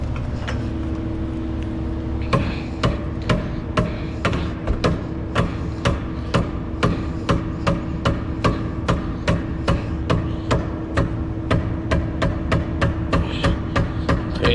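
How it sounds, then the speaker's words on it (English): A small rubber mallet knocks a rear lower control arm into place on a 2004-2013 Mazda 3, giving a long run of evenly spaced, sharp, close taps after a short pause at the start, with no voices. "Best to use a little rubber mallet."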